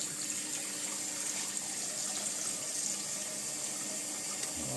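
Warm water runs steadily from a tap into a sink with a little dish soap to rinse plastic model kit sprues, a constant close hiss and splash with no talking.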